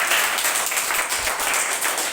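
Children in a classroom activity clap loudly and continuously, a thick, even burst of applause filling the room.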